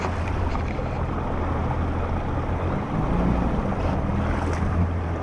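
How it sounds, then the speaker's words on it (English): A Yamaha FX jet ski runs flat out across open water. Steady, loud engine and hull roar mixes with wind and spray throughout, with no talk. "I have my jet ski running and I'm going to go as fast as I can"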